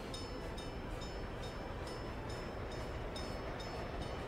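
A freight train loaded with steel pulls away in the Workers and Resources game, a steady rumbling roll with faint rhythmic clicking, heard alone at low volume.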